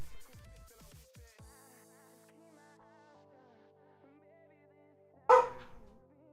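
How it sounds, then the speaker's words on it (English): A pet dog barks several quick times at a cat, somewhat distant and brief early on, then a sharper single yelp or bark later against a quiet background with faint game music. "is apparently barking at the cat again"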